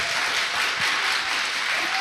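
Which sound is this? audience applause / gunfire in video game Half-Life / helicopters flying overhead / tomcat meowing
audience applause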